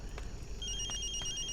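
An electronic phone ringtone trills in short repeating beeps over a low background hum, fairly close and steady.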